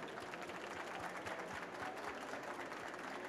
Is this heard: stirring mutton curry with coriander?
no